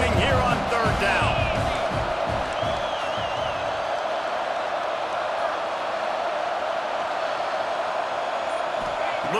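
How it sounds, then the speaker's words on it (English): Boise State stadium crowd noise in the EA Sports College Football 26 video game: a loud, continuous roaring wall of fans on a third down, with thumping impacts early on and a commentator's voice over it. "This Boise State crowd bringing the noise. It's deafening here on 3rd down."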